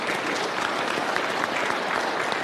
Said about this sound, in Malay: Kita berikan tepukan gemuruh kepada semua.